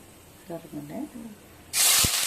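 Whole spices, bay leaf, cinnamon and cloves, dropped into hot oil for a mutton curry, a sudden loud, sustained sizzling hiss that bursts in after someone speaks.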